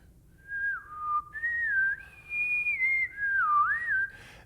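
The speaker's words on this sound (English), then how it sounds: "get a good solid whistling tone and connect the notes and try and whistle them in tune" A person whistles a connected melodic line of sustained notes in tune, sliding between pitches in several phrases, close, clear and alone with no speech.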